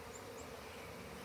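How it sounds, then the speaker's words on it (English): Honey bees fly around a hive on orientation flights, a steady, dense buzzing drone that fills the short stretch at an even level with no voices. "A lot of bees are flying around."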